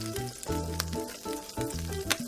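Butter melts in a pan on low heat for beef stroganoff, a quiet, close sizzle overlaid by a repeating low tonal hum that comes and goes in short pulses.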